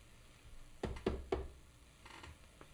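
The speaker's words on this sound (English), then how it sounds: "Knock on wood, right?" Three sharp knocks on a wooden table, evenly spaced and fairly close, followed by a couple of fainter taps, with no voices.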